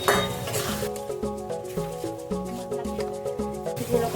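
New potatoes, peas and snakehead fish are sautéed in oil with turmeric and chili powder, a soft sizzle under rhythmic stirring clinks and scrapes of a utensil against the pot, close and steady.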